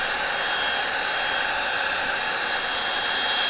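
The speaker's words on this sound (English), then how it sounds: "This is the Milwaukee. Not a great heat gun for like big jobs." A Milwaukee battery-powered heat gun runs close by, a steady, loud, airy blowing hiss with no change in level and no talk, used on damaged leather of a Porsche 997.2 GT3 RS.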